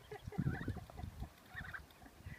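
Ducks kept outdoors make soft low quacking and gobbling calls, a few short bursts close by and fairly quiet, with no one talking.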